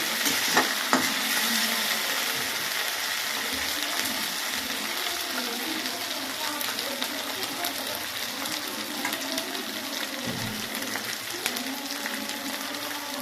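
Cumin paste and spices frying in a pan while being stirred, a steady close sizzle with scraping and clinks from the spoon throughout.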